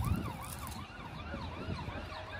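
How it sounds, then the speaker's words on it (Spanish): Sirens wail in the distance at a municipal cemetery in Tijuana, a steady rising-and-falling tone lasting throughout over a low background rumble. "Se escuchan a lo lejos unas sirenas"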